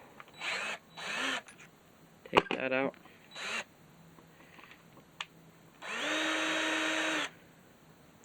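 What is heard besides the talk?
power drill running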